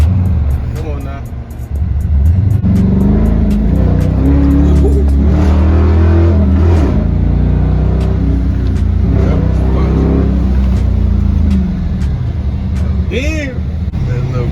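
A Dodge Charger R/T with a rebuilt 5.7 Hemi V8 drives hard and revs loudly throughout, its engine roar rising and holding near the microphone while people talk and exclaim over it.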